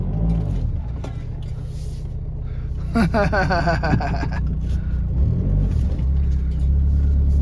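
Cheap VW Beetle TDI backing up in reverse, its diesel engine giving a steady close low rumble that swells slightly toward the end, with a person talking briefly in the middle.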